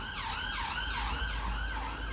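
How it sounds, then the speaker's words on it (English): A wailing emergency siren sweeps up and down continuously, loud and close, with low traffic rumble beneath it. "Let the siren pass."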